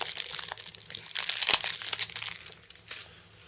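Inner plastic packaging of a Star Wars CCG Premiere Limited starter deck being pulled open, a close, continuous crinkling and crackling with a sharp crunch partway through that then fades to softer rustles.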